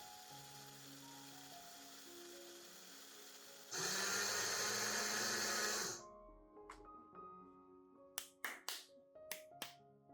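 Dry wheat grains ground into fine powder in a grinder: a loud, steady whirring roar lasting a few seconds and then cutting off, followed by a few sharp clicks and taps.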